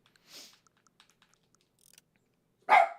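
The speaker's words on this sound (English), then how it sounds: "There's nothing to bark at. You're barking at nothing." A pet dog gives a single loud, sharp bark at the end of a quiet indoor stretch, after a faint softer sound and a few small ticks and rustles, with no voices.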